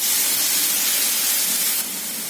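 Onion, ginger and garlic paste fries in a pan with a steady, loud, dense sizzling hiss that holds evenly throughout and then drops slightly in level near the end.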